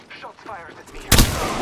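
A brief voice speaks, then a single loud, sharp gunshot cracks out close by in a video game, fired at the player, with a short ringing tail after it.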